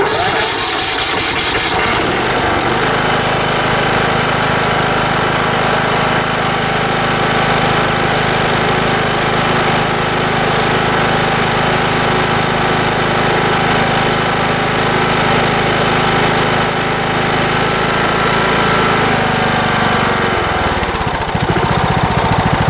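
Craftsman YS4500 lawn tractor engine cranks over, fires and runs at a steady, loud drone for about twenty seconds before cutting off, close by with no talking.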